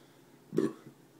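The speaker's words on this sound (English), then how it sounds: "That's the burp I was waiting for." A single short, low burp follows drinking Leinenkugel's Honey Weiss beer, close and fairly soft against a quiet room.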